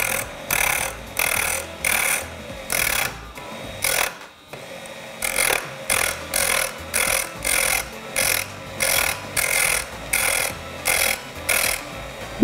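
Wood turned on a lathe while making a wooden jump rope handle: a steady motor whir is cut by regular, evenly spaced bursts of scraping as the tool meets the spinning wood, close and repeating about once per second.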